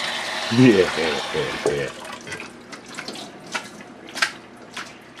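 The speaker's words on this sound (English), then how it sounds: "Rinse it off in cold water." Cold tap water runs into a kitchen sink as raw chicken is rinsed, a splashing stream heard under a short spoken word, then softer trickles and drips.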